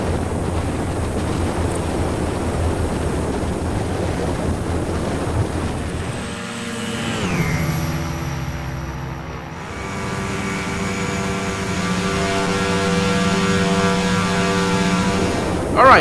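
A Quest Kodiak aircraft in the flight simulator X-Plane 11 drones with a loud, continuous engine and propeller roar. The tone shifts and dips partway through as power changes, then settles into a steady hum.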